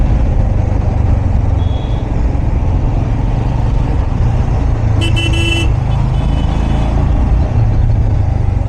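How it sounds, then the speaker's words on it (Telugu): Dense night road traffic of cars and trucks near Durgam Cheruvu in Hyderabad's Hi-Tech City area, a loud continuous rumble with a brief car horn toot partway through. "ఈడ కూడా ఫుల్ ట్రాఫిక్ ఉంటుంది."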